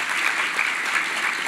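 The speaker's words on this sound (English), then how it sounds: "Another big round of applause" Loud, dense round of applause from the audience at an International Anti-Corruption Day event, a continuous crowd of hands clapping steadily from start to finish with no talking over it.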